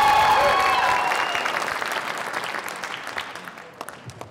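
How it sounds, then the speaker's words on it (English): An audience at a high school singing competition gives loud applause after a performance, strongest at the start and then thinning into scattered claps. "Let's give Baleen one more round of applause."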